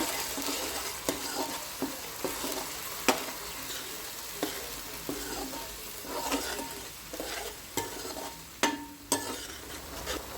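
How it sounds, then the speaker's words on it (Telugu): A masala paste of ginger, garlic and cumin fries in a pan with a low, steady sizzle. A spoon scrapes and clinks against the pan at irregular intervals while the paste is stirred. "ఆ మసాలా పేస్ట్ని కూడా ఇందులో వేసుకోవాలి ఈ మసాలాలన్నీ వేసుకొని ఒకసారి కలుపుకోవాలి"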